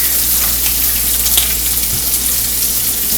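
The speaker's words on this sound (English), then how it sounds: "I'm going to let that bacon cook a little bit more on that side before I flip that over." Bacon sizzles and crackles loudly in a hot frying pan, a close, continuous hiss with scattered pops and no talk.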